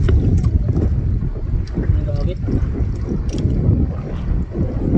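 Steady wind buffeting the microphone outdoors on a fishing boat in the Philippines, a low rumbling roar that persists throughout, with faint voices in the background.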